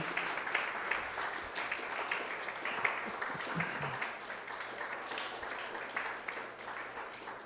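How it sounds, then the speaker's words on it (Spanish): Faint, steady applause from a church congregation during a sermon, continuous clapping heard from a distance at low volume. "Aplaudan por él"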